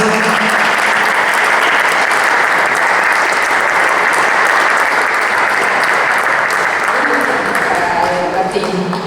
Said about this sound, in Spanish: también merece un fuerte aplauso